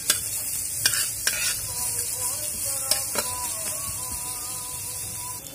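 Chopped onion and garlic stirred in a sizzling pan, a steady frying hiss broken by several sharp scrapes and taps of a spoon against the metal, close and alone with no talk.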